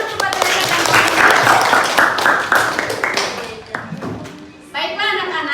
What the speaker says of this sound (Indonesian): Kita tepuk tangan untuk Reza dan Molina.